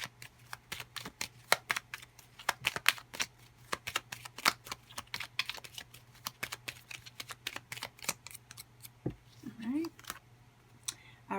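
Tarot cards are shuffled and drawn, giving a dense run of quick crisp flicks and snaps up close and fairly quiet, broken once near the end by a short sliding sound.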